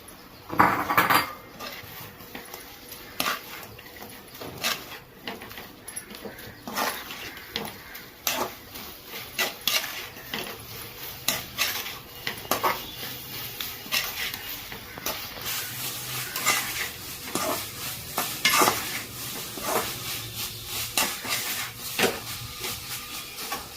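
Fried chicken pieces tipped into a pan and stirred for Chinese-style chicken, with repeated close metallic clinks and scrapes of a utensil against the pan over a low background hiss, irregular and continuous throughout.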